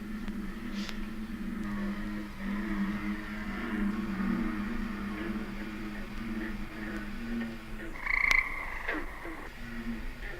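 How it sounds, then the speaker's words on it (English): A steady chorus of bullfrogs croaking outdoors at night, deep overlapping calls continuing throughout with faint background hum. "right there in the dark nights, you know, the bullfrogs make an awful racket"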